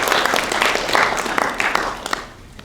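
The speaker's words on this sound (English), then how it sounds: "Let's give him a round of applause of gratitude" A lecture-hall audience gives a short round of applause, a steady wash of many hands clapping at moderate distance that fades toward the end.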